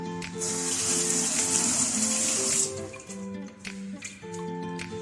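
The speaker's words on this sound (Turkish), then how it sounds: "Ellerimi bir yıkayayım." Running kitchen tap water splashes over hands being washed, loud and steady for about two seconds, then gives way to quieter kitchen clatter and faint handling noises.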